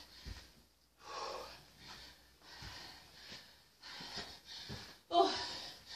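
Heavy, rhythmic breathing during a stair workout, gasping inhales and puffing exhales repeating every second or so, close and fairly faint.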